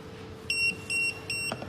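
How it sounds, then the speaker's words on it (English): JT-938 guest pager from a restaurant paging system, giving four short, sharp electronic beeps in a quick even rhythm, close and clear over a faint background hum. "Only beeping and flashing."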